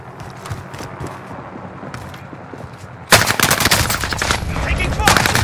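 Gunfire in Call of Duty Modern Warfare: quiet ambience at first, then a sudden dense, loud barrage of overlapping automatic fire that continues to the end.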